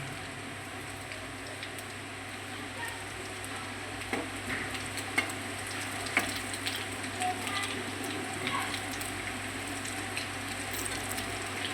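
Bread aloo rolls fry in oil over a low gas flame, giving a soft, steady sizzle with occasional crackles and light stirring taps throughout.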